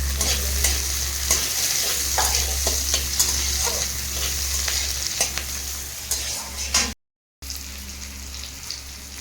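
Vegetables sizzle steadily in a generous amount of oil while being stirred, with frequent scraping and clinking taps of a utensil up close. The sound briefly drops out to silence near the end, then resumes.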